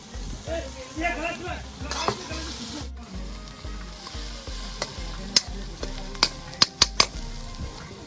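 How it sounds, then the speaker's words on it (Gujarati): Onions with green chillies frying in a pan, loud close sizzling mixed with scraping stir strokes and several sharp utensil clicks and taps near the end. "મિત્રો ડુંગળી કમ્પ્લેટ ફ્રાય થઈ ગઈ છે"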